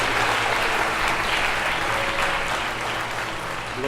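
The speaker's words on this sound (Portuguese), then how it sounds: "E aplauda o Senhor mais uma vez." A church congregation in a Portuguese-speaking service claps together in sustained, dense applause that stays loud throughout and eases slightly toward the end.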